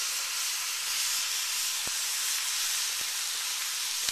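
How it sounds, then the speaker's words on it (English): Corned beef and sauerkraut sizzling on a hot grill, a steady, even hiss that holds throughout, with a few faint clicks and pops. "you're also going to want to grill your corned beef just a little bit"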